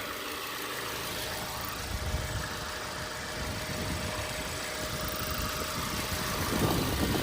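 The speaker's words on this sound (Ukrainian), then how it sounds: "Двигун гарно працює." An Audi car engine idles at a low, steady rumble, faint and continuous, with a slight rise in intensity near the end.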